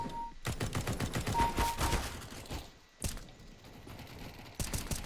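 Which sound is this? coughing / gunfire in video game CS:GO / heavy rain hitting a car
gunfire in video game CS:GO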